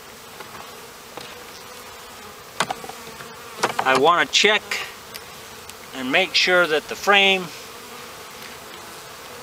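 Honey bees buzz steadily in an open hive during a February brood-nest inspection, a close, continuous hum running throughout while a person talks in bursts over it.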